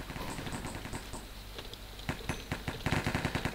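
Gunfire in the video game Counter-Strike: rapid, sharp automatic bursts crackle close by, thinning briefly midway, then resuming in quick, evenly spaced shots.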